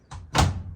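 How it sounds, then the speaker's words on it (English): A washing machine door swings shut with a short creak and then a single solid thud, close and brief. "close the door and pull the washer out"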